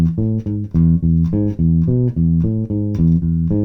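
A bass guitar plays a riff alone, with short plucked notes in a steady, even rhythm.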